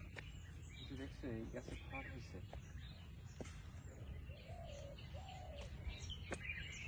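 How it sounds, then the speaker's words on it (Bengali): A dove calls repeatedly with chirps and short trills, then soft cooing notes, faint and distant in a hushed hill forest, with a quiet voice briefly. "কি যেন একটা পাখি ডাকতেছে নাম কি ওটার"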